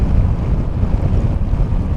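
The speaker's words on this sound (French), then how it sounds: "Enfin, j'ai le son du vent." Steady, loud wind buffeting and rumble while riding a Moto Guzzi V85 TT trail motorcycle, constant low roar filling the whole stretch with no voices.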